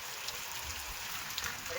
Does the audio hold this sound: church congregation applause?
no